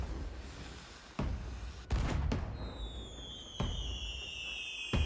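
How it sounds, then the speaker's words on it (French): Fireworks going off in the Sea of Thieves video game, a series of loud sharp bursts followed by rising whistling streaks that trail off, repeating several times over a steady rumbling background. "C'est marrant on dirait mes feux d'artifice."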